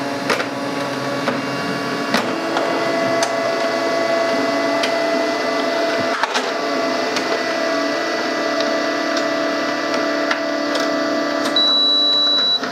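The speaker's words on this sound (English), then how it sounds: "the paper runs through the printer pretty slowly" A Canon LBP laser printer slowly feeds heavy cardstock with a steady mechanical whir and hum, small clicks along the way, and a higher whine joining near the end. The sound is close and continuous with no talk.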